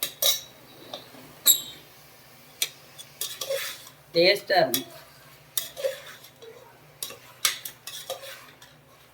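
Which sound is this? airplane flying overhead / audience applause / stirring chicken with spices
stirring chicken with spices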